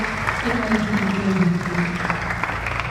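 Audience clapping at a Yasin recitation and hajat prayer gathering at SR Islamiah Tawau school, a steady patter running throughout with a voice speaking clearly over it.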